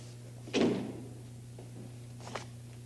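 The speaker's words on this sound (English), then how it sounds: "Charles, we close doors." A door swings shut with a single solid thud, followed later by a fainter bump, all over a steady low background hum.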